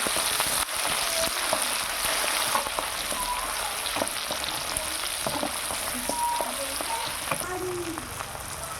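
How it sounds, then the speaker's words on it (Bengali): Chopped tomato and green chili fry in a pan for home-style egg tarka, a steady close sizzle broken by scraping stirs of the spatula, with faint background tones and no speech. "এবার দিয়ে দেবো টমেটো কুচি, তারপরে লঙ্কা কুচি, দিয়ে এটাকে ভালো করে নাড়তে হবে।"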